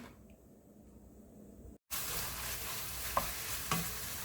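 Marinated pork stir-fries in a pan for a bean sprout bulgogi. After a short quiet stretch, a dense hissing sizzle starts suddenly and carries on, with a couple of faint stirring knocks.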